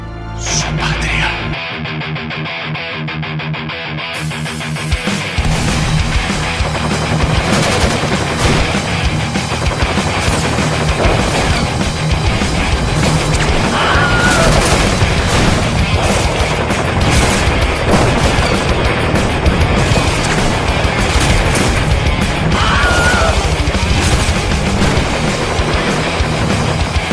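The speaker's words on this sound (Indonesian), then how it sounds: "muncullah si kolonel dan pasukan hingga terjadi baku tembak edan-edanan" A film gunfight between a colonel's troops and soldiers erupts in heavy, continuous gunfire, with dense bursts of automatic shots, booms and crashes layered loudly throughout, and a few shouted voices buried in the chaos.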